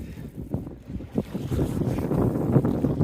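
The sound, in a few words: wind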